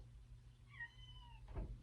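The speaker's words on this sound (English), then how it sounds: "I straight up thought somebody was knocking on my door. It was the cat." A cat at a door making a short meow-like call, then a single soft thump or knock-like sound near the end, all over a low room hum.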